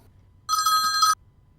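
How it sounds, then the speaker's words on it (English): A telephone bell ringtone plays alone as one continuous bright electronic ring lasting about two-thirds of a second, loud and close over a quiet low background hum. "Here's my ringtone."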